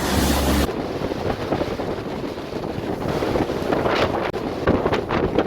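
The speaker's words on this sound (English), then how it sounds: "the boat keeps on hitting a large wave which brings it to a complete standstill" Sailing boat motoring into big waves and strong wind off Greece, with steady roaring wind noise on the microphone and dull surges of water as the hull meets the swell, no voices.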